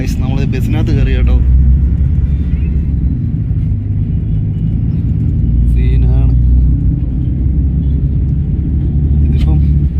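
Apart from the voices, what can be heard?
inside a moving bus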